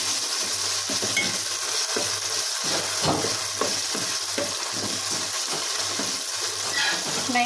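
Ginger garlic paste fries in a pan for a tomato curry. A bright, steady sizzle fills the clip, punctuated by a rhythmic series of spatula scrapes and taps against the pan, close and without voices.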